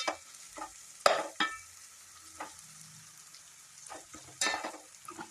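Onions frying in a pan with ginger-garlic paste, turmeric, coriander, mint and curry leaves for a chicken curry, heard as a soft steady sizzle broken by several sharp stirring scrapes and clatters, fairly quiet and close with no talking.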